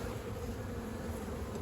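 Honeybees hum inside a crowded beehive, a dense, steady drone that holds without break and sounds close.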